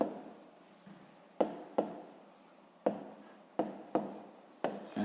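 A pen or pencil writes a word by hand in a sixth-grade maths exercise, sounding as a series of short scratchy strokes, each starting with a sharp tap, close and fairly quiet, with no talking.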